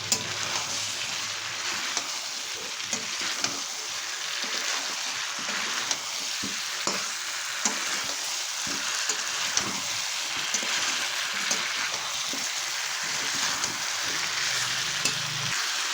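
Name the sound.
frying potatoes and cauliflower in spice paste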